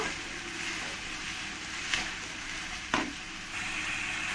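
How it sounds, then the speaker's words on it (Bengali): Onions with ginger garlic paste sauté in a pan for a fish dish, giving a steady close sizzle with two brief scraping stirs. "1 চামচ আদা রসুন পেস্ট দিয়ে ভালো করে এই পেঁয়াজের সঙ্গে আমি কষিয়ে নেব"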